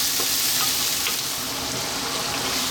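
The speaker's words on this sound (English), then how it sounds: "We're going to turn the heat to medium. We're going to go for 5 minutes. Give it a stir every now and then" Crushed tomatoes fry in a pan over medium heat for a bacon tomato pasta. A loud, continuous sizzle fills the whole stretch, with soft scraping from stirring and no voices.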